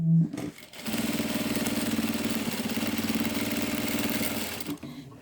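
A sewing machine quilting straight lines, running steadily for about four seconds with a loud, even mechanical hum and rapid needle rhythm, starting and stopping abruptly.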